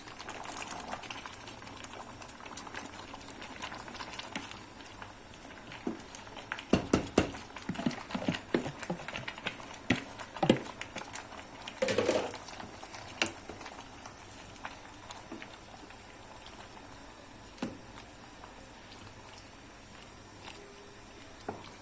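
A pot of brine with gherkins boiling, a steady low bubbling and burbling with scattered pops and clicks, a few sharper knocks midway, close and moderately quiet throughout.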